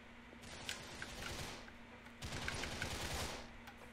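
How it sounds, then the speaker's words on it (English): Gunfire in the video game Grand Theft Auto IV, two bursts of rapid automatic shots with a short lull between them, fairly quiet and not near. "Don't know where they're shooting from"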